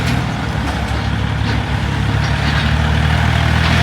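A used farm tractor's diesel engine rumbles steadily as it drives in at a rural dealer's forecourt, a loud, continuous low idle-like drone with no speech.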